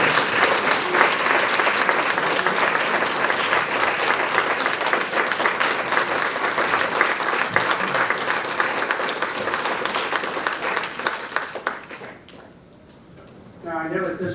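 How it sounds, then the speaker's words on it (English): Sustained applause from an audience at a Black History Month celebration, a dense, loud wash of clapping that holds steady and then cuts off abruptly near the end, followed by a brief quieter sound. "Please join me in applauding even more."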